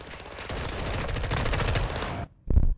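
Video game gunfire: a dense, loud burst of rapid automatic shots for about two seconds, then a short silence and one more heavy blast.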